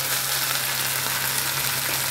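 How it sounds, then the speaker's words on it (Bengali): Onion frying in ginger garlic paste in a pan, a steady, continuous sizzle held at an even level throughout, with no talk over it. "এখানে আদা রসুন পেস্ট দিয়ে দিয়েছি, দিয়ে পেঁয়াজটাকে একটু ভালো করে ভাজবো"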